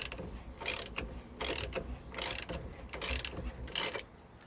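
A socket ratchet works the steering wheel nut loose in short bursts of rapid clicking, about five strokes, close up and fairly quiet, with no talking.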